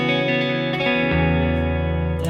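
Electric guitar played through a Vox AC30 amplifier, sustained chords ringing with a thick low note entering midway, heavy reverb and effects washing the tone, alone and loud with no talking.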